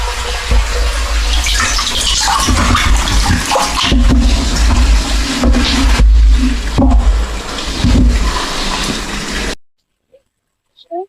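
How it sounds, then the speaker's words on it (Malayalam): Water gushing hard from a pipe into a monster fish tank, a loud continuous rushing pour with a low rumble, cutting off abruptly into near silence. "ഇപ്പൊ നമ്മള് നമ്മുടെ വാഗവരാന്റെ ടാങ്കിലോട്ടും പൈപ്പിൽ വെള്ളം വിട്ടിരുന്നുണ്ട്"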